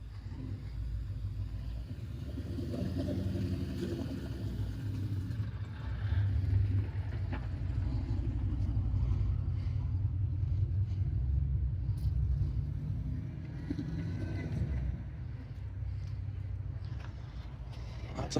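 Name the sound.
car engine rumbling at a car cruise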